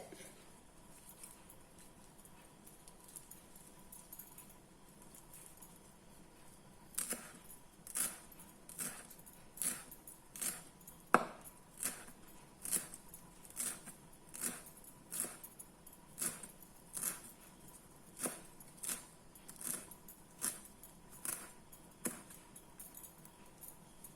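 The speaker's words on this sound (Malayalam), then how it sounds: "എല്ലാം അരിഞ്ഞു കഴിഞ്ഞു." Knife chopping coriander leaves and vegetables on a board, a steady run of about fifteen crisp, evenly spaced chops, close and clear over a quiet room.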